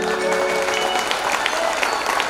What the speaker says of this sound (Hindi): जरा सुभाष चंद्र बोस के लिए रक्कस के ताली बजाते हैं